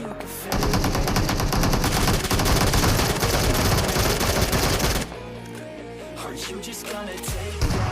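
Rapid automatic gunfire in a battle royale game fills the first five seconds in dense, loud bursts, then drops to quieter scattered shots and game effects.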